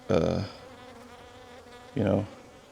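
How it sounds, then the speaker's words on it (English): Two short, loud buzzing bursts from honey bees at a crowded hive in a yard, separated by a low, steady background hum. "they have so many bees"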